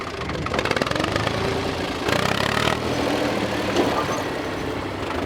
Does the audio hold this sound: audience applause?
no